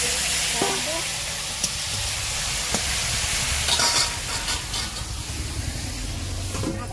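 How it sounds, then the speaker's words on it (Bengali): Pond fish stirred in a hot frying pan, a steady loud sizzle with scraping stirs and clinks of the spatula, then a sharper hissing burst as water hits the hot oil. "নাড়াচাড়া করবো। আমি একটু জল দেবো"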